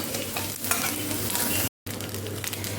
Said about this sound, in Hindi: इसमें चावल और चिल्ली दोनों डालकर मैं भून लूँगी